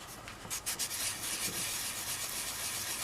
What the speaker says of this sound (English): So you just keep sanding.